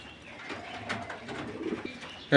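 Pigeons coo softly and continuously at a large pigeon farm, low murmuring calls close by, with a brief louder noise right at the end.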